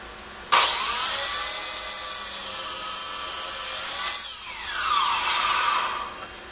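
Power saw cutting a wooden board for a workbench frame against a clamped stop, a loud sustained whine through the cut, then the pitch sweeping down as the blade spins down.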